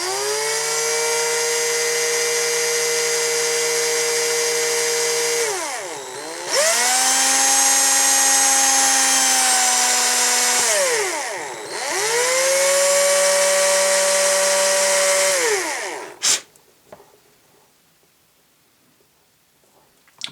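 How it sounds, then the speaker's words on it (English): A small power drill bores a pilot hole into a vintage Action Man plastic toy helicopter part, whining loud and steady in three long runs with brief dips as the bit catches and slows, then stopping abruptly. "then very carefully drill in there and see what happens"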